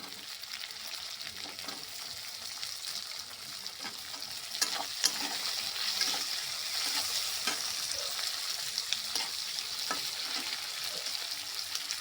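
Garlic and spices frying in a pan for prawn chilli, with a steady close sizzle throughout and occasional louder crackles and stirring scrapes, no talking.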